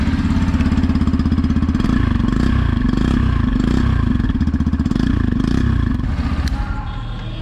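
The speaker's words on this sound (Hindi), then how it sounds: "बाइक स्टार्ट करके मैं आपको इंजन साउंड सुना देता हूँ" A 2023 Yamaha FZS V4 motorcycle with a 150 cc engine idles nearby, a loud, fast, even thumping putter that stays steady before easing off slightly at the end.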